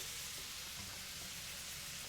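Thin, stringy machine-sliced vegetables frying in a pan give a steady, even hiss of sizzling that runs unbroken throughout, fairly quiet and close.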